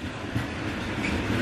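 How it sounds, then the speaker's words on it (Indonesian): A long freight train of about 60 wagons hauled by a CC 204 locomotive in blue and white livery rolls past nearby, giving a steady loud rumble of wheels and wagons with no break. "Gak beres-beres, panjang banget ini. Berapa gerbong? Ada 60 ini."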